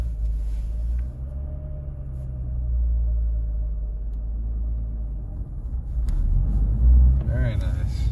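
A Nissan S13 pulls away after the clutch is let out and gas applied, a low engine rumble swelling and easing from inside the car, with brief speech toward the end.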